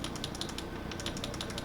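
A computer keyboard key tapped repeatedly during boot: a steady run of quick, light clicks, fairly quiet and close, with no talking.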